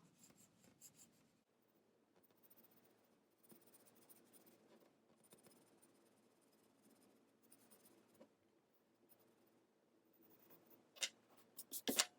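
A pencil held on its side shades paper while drawing a realistic face, giving a soft, continuous scratchy rubbing that is very faint throughout, with a few sharper strokes near the end.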